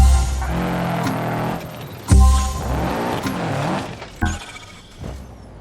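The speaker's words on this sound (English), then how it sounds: "so you can hear the new sound effects" A sliding car in BeamNG.drive gives off wavering tire squeals over an engine drone, broken by a few sharp impacts and bumps, close and moderately loud, with no voices.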